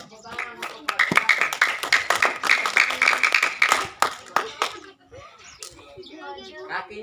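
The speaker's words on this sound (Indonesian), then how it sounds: "tepuk tangan untuk Fajar" A small group claps in applause for a person named Fajar, a burst of quick, uneven hand claps lasting a few seconds, with talk and a shout mixed in, then fading into chatter.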